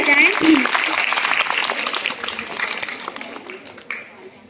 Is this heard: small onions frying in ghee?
no